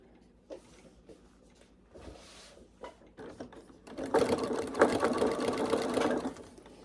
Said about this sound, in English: I've cut a small slit there, and I'm going to start zigzagging.